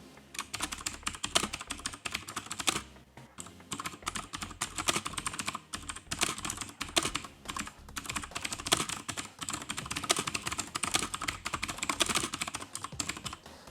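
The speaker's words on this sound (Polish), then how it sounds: "A to oznacza też dość głośną pracę klawiszy, która nie każdemu musi przypaść do gustu." Fast, continuous clicky typing on a Hykker X Range mechanical keyboard, loud and close, with dense rattling keystrokes and only a brief pause partway through.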